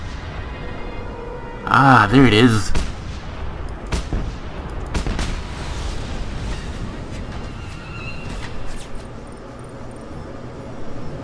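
Cannon fire in the video game Just Cause 2: several heavy, booming shots land at irregular intervals over a dense, rumbling battle soundscape, with someone speaking briefly early on.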